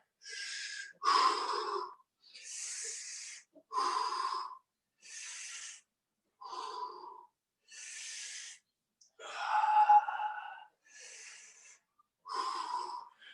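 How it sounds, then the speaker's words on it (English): Heavy, rhythmic breaths during wide-stance squats, alternating loud inhales and forceful exhales about once per second and a half, close and alone with short silent gaps between them. "Breathing in on the way down, breathing out on the way up."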